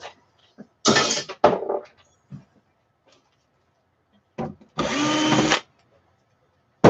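A power drill drives out screws in two short, loud whirring bursts separated by quiet gaps, with small clicks and handling noises between them.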